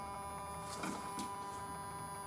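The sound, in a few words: electric vacuum pump buzzing in EV conversion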